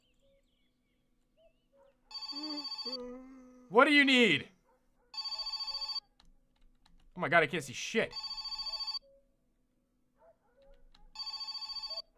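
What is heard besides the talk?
phone ringing in My Summer Car video game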